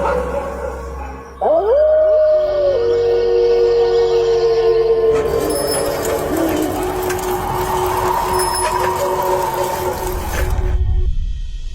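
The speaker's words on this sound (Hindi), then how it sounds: "राजा के कमरे की खिड़की के बाहर बहुत सारे कुत्ते आ चुके हैं" Several dogs howl together outside a house window at night, a long sustained wailing chorus over a steady noisy backdrop, with a sudden louder wash of sound joining partway through.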